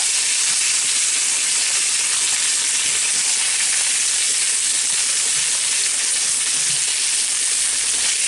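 Pork chops sizzle steadily as they brown in a hot pan beside potatoes, a constant loud frying hiss with faint low crackles underneath and no voices.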